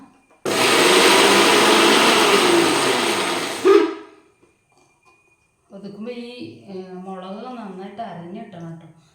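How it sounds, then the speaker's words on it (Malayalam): A mixer grinder coarsely crushing coconut runs loud and close for about three seconds in a harsh whirring roar, then stops; after a short silence a person starts talking. "നമുക്ക് ഈ തേങ്ങ ഒന്ന് ഒതുക്കിയെടുക്കാം"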